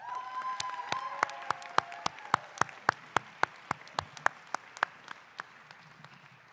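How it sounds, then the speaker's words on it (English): A graduation hooding ceremony audience gives sparse applause, a handful of distinct, fairly close claps in an uneven rhythm that thins toward the end, with faint murmuring behind them. "Could we give Russell another round of applause?"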